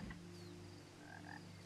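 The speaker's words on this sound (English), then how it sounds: "Frog friend!" A frog croaks quietly in the Washington setting of What Remains of Edith Finch, a few short faint croaks over a soft ambient backdrop with no talk.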